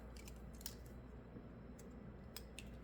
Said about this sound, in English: So I'll just cut it out.